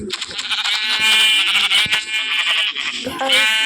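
A goat in the Minecraft video game bleats repeatedly in loud, wavering cries that run almost continuously, with faint talk underneath.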